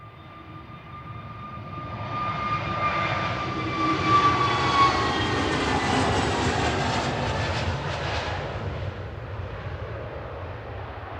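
A jet airliner departing runway 23 left at Manchester Airport builds from a distant whine to a broad, roaring engine thrust that peaks mid-way, then slowly fades as it climbs away, with no voices.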